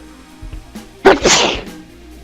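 A single sharp sneeze from a person at a tabletop game session, loud and close, preceded by a brief inhale and surrounded by quiet room tone.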